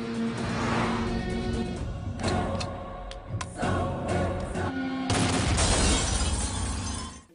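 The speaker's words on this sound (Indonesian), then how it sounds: "Sidat terus dibombardir oleh anak buah Rawat yang membuat mobilnya meledak." A car blows up under heavy gunfire in an action film scene, with a dense, loud roar of blasts, shattering glass and crashing debris that continues for several seconds, broken by sharp impacts and a fresh burst near the end.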